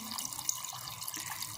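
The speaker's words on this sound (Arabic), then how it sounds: "دابا من بعد ما تشحرات غادي نضيف الماء والكرافس باش تعطينا المذاق ديالو." Water runs from a tap into a pot for Moroccan harira soup, a soft, steady splashing trickle heard alone and fairly quietly.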